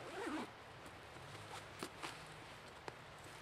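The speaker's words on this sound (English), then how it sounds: "In the main compartment here, let me unzip it and show you." Zipper on the main compartment of a Vanquest Javelin V-Slinger slingpack being pulled open in a brief rasping sweep, then soft handling rustles and a few light taps, quiet and close.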